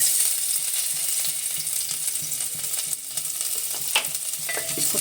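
Garlic dropped into a small amount of hot oil for a chicken soup, giving a steady, close sizzle and crackle that continues on its own without any voices.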